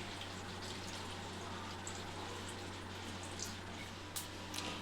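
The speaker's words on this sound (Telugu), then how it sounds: "ఇప్పుడు కొంచెం కూల్ వాటర్ పోసుకోవాలి" Cool water pours over boiled macaroni pasta in a continuous, faint, even splashing stream under a low background hum.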